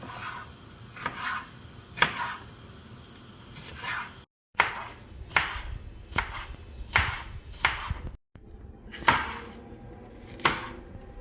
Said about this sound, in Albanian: Pasi kemi pastruar speckat, fillojmë të grim holl